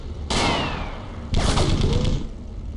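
Two heavy gunfire bursts in the vehicle combat game Darkwind: War on Wheels, each a sharp, loud blast with a rumbling tail, about a second apart.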